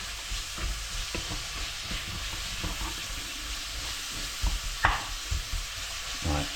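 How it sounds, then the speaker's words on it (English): Mince sizzles steadily in a pan with onions and bacon, a constant close frying hiss with occasional scrapes and stirring knocks, louder near the end. "we're going to put the mince in"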